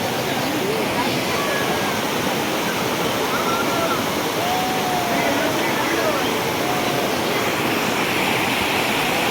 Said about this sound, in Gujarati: જો મિત્રો પાણી જાય છે